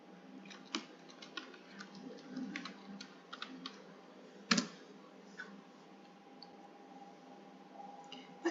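Quiet, scattered keystrokes on a computer keyboard while someone enters a web address into a browser, irregular light clicks spread across the stretch with one sharper tap in the middle.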